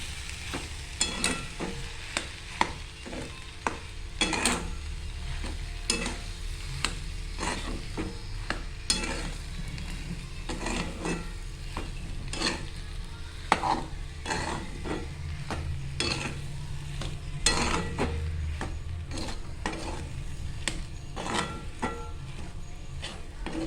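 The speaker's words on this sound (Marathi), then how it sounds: "इथे आता आपण त्याला एकत्र असं करून घेऊया।" Boiled potatoes, four large ones, stirred and mashed together in a pan for a potato sandwich filling, giving steady scraping and soft sizzling with repeated spoon clacks against the pan, close and continuous, with no talk.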